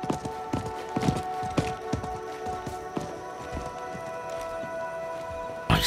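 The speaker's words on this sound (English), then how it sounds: "I think that was the merchant's horse." A horse in the Diablo IV video game trots with a steady clip-clop of hooves, close and fairly loud, over a constant musical drone and a light patter like rain.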